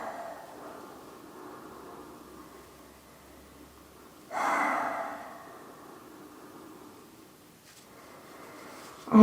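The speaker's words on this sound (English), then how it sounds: "Breathe deeply." Slow, deep breaths during a yoga child's pose: a long soft exhale, then a louder, fuller breath midway, and a final sharp inhale, close and quiet, with no talking.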